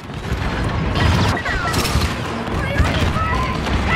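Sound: gunfire at a walker, from video game Star Wars Battlefront II

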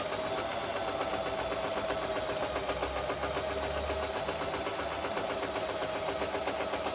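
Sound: Janome sewing machine sewing with fine hemming foot

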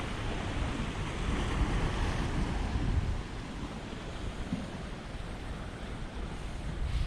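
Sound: sea waves

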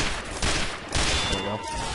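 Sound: gunfire in Team Fortress 2 video game

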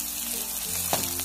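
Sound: green chili sizzling as it is added to frying onion

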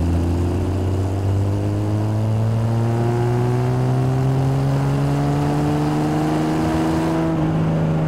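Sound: Triumph TR6 engine pulling away from 1,000 RPM in fourth gear

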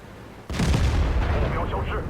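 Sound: tank cannon shot in a tank video game

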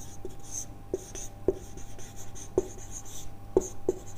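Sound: writing on a board during a chemistry lecture

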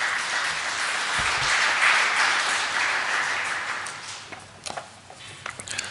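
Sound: church congregation applauding a women's choir

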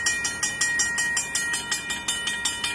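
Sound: Safetran mechanical railroad crossing bell ringing

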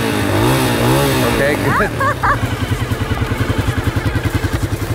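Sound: dirt bike engine running

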